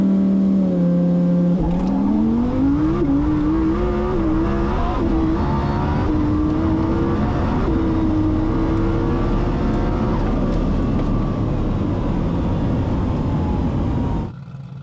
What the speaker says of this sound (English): Let's jump on board for a ride in that twin turbo Lambo.